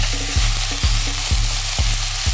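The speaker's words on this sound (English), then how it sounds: "So let's start our spinach while the vegetables are cooking down." Spinach sautéing in olive oil for a vegan shepherd's pie, a steady close sizzle broken by regular stirring knocks of a utensil against the pan roughly twice a second.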